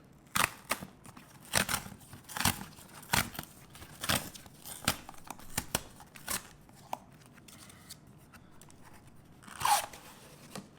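Sharp crinkles, snaps and tearing come from the packaging of a 14-inch MacBook Pro M3 box being opened, in irregular bursts, close and moderately quiet, with no talking.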